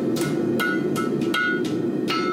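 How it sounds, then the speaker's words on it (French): Blacksmith's hammer striking iron on an anvil of nearly 300 kilos, six sharp ringing blows at uneven intervals over a steady background hum, with no voices. "J'ai une enclume de quasiment 300 kilos, j'ai un marteau et je bats le fer comme il se doit."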